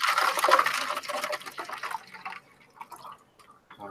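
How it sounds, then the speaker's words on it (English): Water poured from a jug into a cup, a close, bright splashing stream that is loud at first, then thins into scattered drips and trickles that fade away. "I'm taking some water, pouring it out of a jug, and pouring it in my cup."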